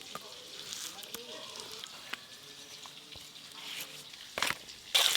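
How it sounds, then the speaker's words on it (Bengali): Boiled eggs fry in a pan over a village-style cooking fire, with a steady low sizzle and occasional sharp crackles and pops, louder bursts near the end. "ডিমগুলো বেশ ভালো করে ভেজে নিলাম"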